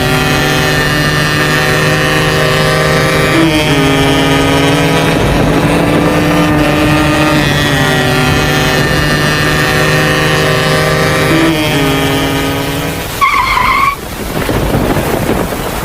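A motorbike speeds along a road, its steady engine drone holding loud and close for most of the ride before a brief shift in pitch near the end.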